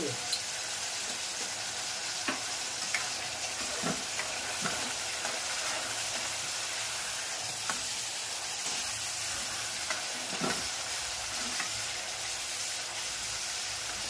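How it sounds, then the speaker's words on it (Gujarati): Tomatoes fry in a pan for pav bhaji, a continuous close hiss of sizzling with scattered light stirring clicks. "टमाटर चढ़ रहा है"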